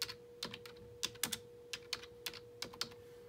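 Keys on a computer keyboard clack in short, irregular bursts as a search is typed, close and fairly quiet over a faint steady electronic hum.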